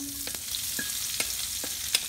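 Onions frying in a hot pan for baked beef short ribs, giving a steady sizzle broken by a few soft stirring taps, close and alone with no voices.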